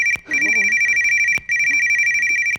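A mobile phone plays a bright electronic ringtone, loud and close, in repeating bursts with brief pauses between, while a voice speaks briefly underneath.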